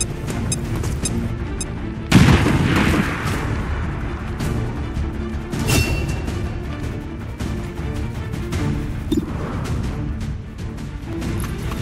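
A sudden heavy grenade blast in XCOM 2, followed by scattered bursts of gunfire and sharp impacts over a rumbling battle backdrop, loud and close throughout.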